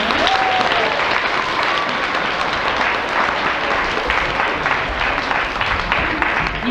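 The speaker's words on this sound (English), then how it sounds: "so let's give them another round of applause." A school assembly audience of sixth graders and adults bursts into sustained, dense applause, loud and close, continuing steadily for several seconds with no talk over it.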